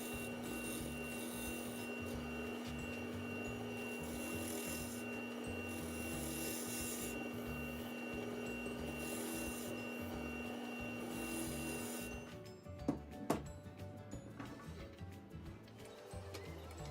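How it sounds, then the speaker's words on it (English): A hand tool pull-cuts along the outside of a wooden pen holder part on a lathe, a steady continuous rasping scrape over a constant motor hum, ending in a few sharp knocks and clatters. "If you have trouble shaping the outside of your part, sometimes using a pull cut will help you achieve that and get a nice finish."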